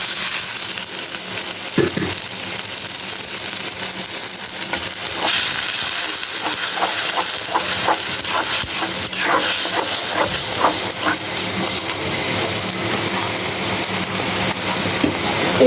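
Steam hissing steadily from a pot of taro boiling, a loud continuous hiss with faint bubbling and small knocks scattered through it.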